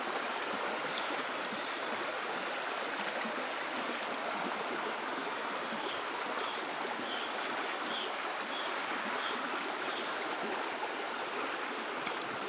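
Strong floodwater current rushing steadily in a flooded stream where palos eels are being caught, a continuous loud broadband wash of water with no pauses, heard alone.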